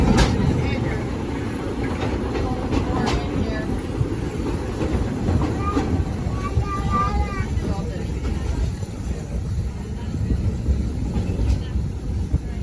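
Walt Disney Railroad steam train rolling along with a steady low rumble and rattle of the cars, a faint whistle-like tone and scattered clanks mixed in, a voice talking over the ride throughout.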